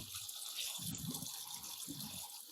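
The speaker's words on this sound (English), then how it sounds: "Rinse it off." Running water rinsing acid-soaked cotton during a nitrocellulose preparation, a faint steady hiss of flowing water with soft lower splashes underneath, no speech.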